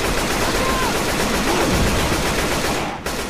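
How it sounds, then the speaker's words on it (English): Dense, continuous gunfire in the Left 4 Dead 2 video game, loud and unbroken for a few seconds, with a brief dip near the end. "Oh man, stop shooting me!"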